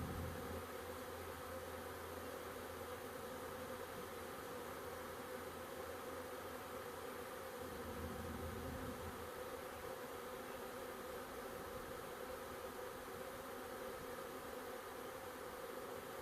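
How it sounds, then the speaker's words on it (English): A large swarm of honey bees entering a swarm trap box outdoors, a dense, constant buzzing hum filling the whole stretch at an even level with no talking. "that is a big swarm of bees"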